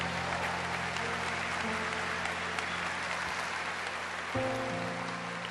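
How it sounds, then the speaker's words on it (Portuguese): Sustained loud applause fills a church during a Catholic Mass homily, the congregation clapping continuously as a steady dense roar. "Quem crê nisso pode aplaudir bem forte a Nosso Senhor."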